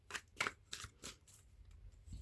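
A tarot deck gets shuffled in quick, soft riffling bursts, several close crisp rustles of card stock in a row with no talking.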